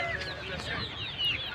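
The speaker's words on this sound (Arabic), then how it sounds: "هناك أنواع من الدجاج" Chickens cluck in a busy outdoor bird market in Khamis Mushait, Saudi Arabia, faint and somewhat distant amid crowd murmur and other bird calls.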